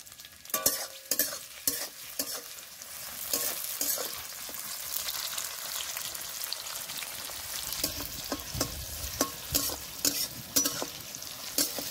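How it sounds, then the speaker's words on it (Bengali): Onion and chopped tomato frying in a pan for a Bengali egg curry, stirred with repeated scraping strokes over a steady sizzle, close and moderately loud, with no talking. "পেঁয়াজ আর টমেটোটা দেখুন ভালো করে ভেজে নিয়েছি"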